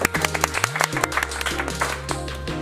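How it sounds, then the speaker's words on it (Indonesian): Clapping from the audience at a university student organization talk event, scattered sharp claps over steady low musical tones, fairly close and moderately loud. "Tepuk tangan dulu dong buat teman-teman."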